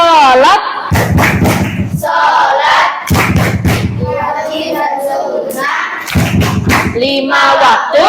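Children clap in rhythmic bursts of quick hand claps for the tepuk sholat clap chant in a classroom, loud and close, with group chanting of the words between the clapping phrases.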